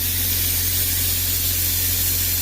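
A steady, loud hiss of compressed air spraying from a sandblaster fed by an air compressor, the blast nozzle working over a floater in cold weather, continuous and close with a low hum beneath and no voices.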